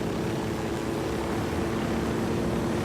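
Helicopter in the video game Ghost Recon Wildlands, a constant dense rotor and engine roar that stays loud and even throughout, with no talk over it.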